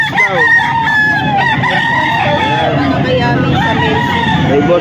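Young rooster, an eight-month-old stag, crowing at an outdoor pet market in the rain, loud and near with long drawn-out calls over a busy babble of voices and other fowl.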